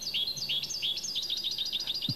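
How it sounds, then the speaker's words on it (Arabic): A European goldfinch, an endangered bird kept at home in Morocco, sings a rapid run of twittering, warbling notes that flow on without a break, close and clear. "تقاسيم وتنويعات في تغاريد طائر الحسون"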